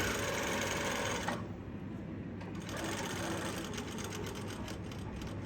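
A sewing machine stitching darts on a fabric top with red thread, a close, fast rattling hum that runs steadily, briefly eases, then resumes its rapid mechanical clatter.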